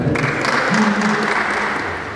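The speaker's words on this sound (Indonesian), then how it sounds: "Boleh tepuk tangan dulu dong untuk Ibu yang di depan" Audience applause for a woman at the front of a business seminar, a steady wash of clapping that fades slightly toward the end, with some voices mixed in.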